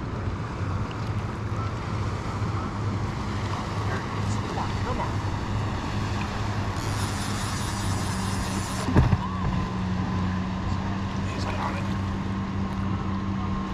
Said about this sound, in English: And here comes all the boats.